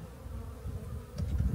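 Honeybees buzzing in a hive during a January winter inspection, a close steady drone of many bees that swells louder toward the end, with no talk over it.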